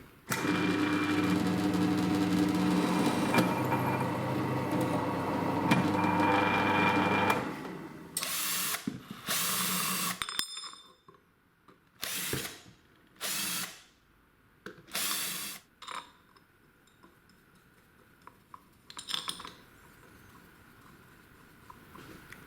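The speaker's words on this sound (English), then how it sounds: "I'll drill these holes slightly oversized." A power drill whines in a steady stretch, drilling holes in metal, then gives several short bursts separated by pauses, close and fairly loud, with scraping handling noises between.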